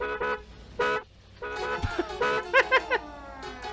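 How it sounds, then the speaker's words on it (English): Several short horn toots sound in quick bursts, some choppy and some rapid, with brief gaps and a voice-like tone between them. "They have to honk the horn?"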